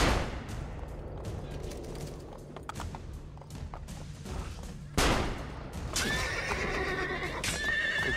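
Horse neighs loudly in Assassin's Creed Brotherhood amid game ambience, with hoof clip-clops and distant gunfire; a sharp whinny bursts in near the middle and a bright, ringing tone follows.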